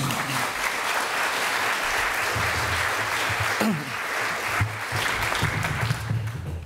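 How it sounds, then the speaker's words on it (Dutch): A large crowd applauds steadily and loudly throughout, a dense wash of clapping that barely changes in intensity. "Geef ze een warm applaus."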